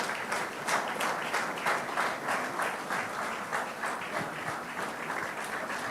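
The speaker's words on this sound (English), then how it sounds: "Let's keep that applause, keep going." Sustained audience applause at a book launch: a continuous, even wash of many hands clapping, moderately quiet and somewhat distant, with no voices over it.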